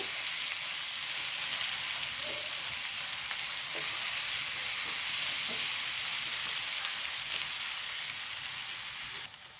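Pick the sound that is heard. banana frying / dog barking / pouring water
banana frying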